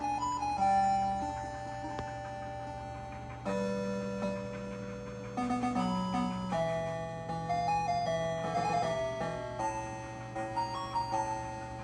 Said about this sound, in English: that's Tandy sound. That's definitely Tandy sound.